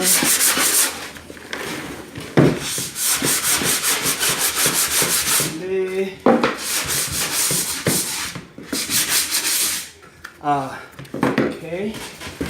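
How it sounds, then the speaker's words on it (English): Hand sanding with a sanding block across the surfaces of a wooden box, repeated rapid rasping strokes in bursts, close and loud, with brief talking in between. "Now that our box is, all the surfaces have been sanded down"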